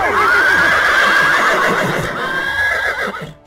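Horses neigh loudly in a children's story, with long, shrill, wavering whinnies over a faint clatter of hooves, fading out at the end.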